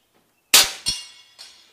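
A Krait X .22 rifle fires with a sharp crack, then a couple of quick metallic clanks follow, close and loud against near silence.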